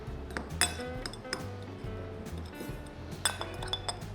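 Brown sugar, white sugar and cinnamon being mixed in a bowl for a cinnamon roll filling, with light clinks of a utensil against the dish, soft scraping between taps, close and quiet.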